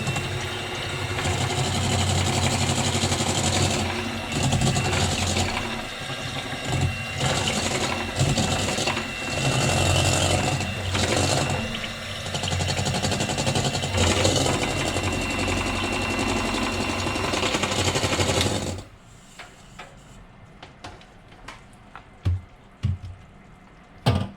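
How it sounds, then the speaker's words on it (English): An electric mixer beats cornbread batter with a steady, loud whirring drone for most of the stretch, then shuts off, leaving quiet scattered clinks and taps. "We will use an electric mixer."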